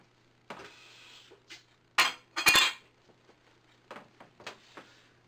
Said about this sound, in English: We're going to kind of stir that around